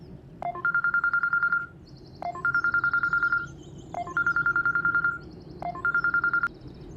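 Telephone ringing in a Pakistani drama scene, in four repeated electronic ring bursts of about a second each, fairly loud and clear over a low background hum.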